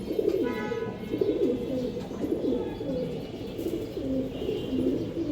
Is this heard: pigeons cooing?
yes